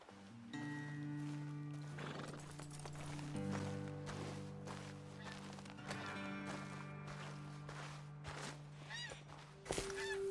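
Horses in Red Dead Redemption 2 whinny and neigh while hooves clop on the ground, all set against a steady, droning tonal backdrop, with a sharper neigh near the end and no talking.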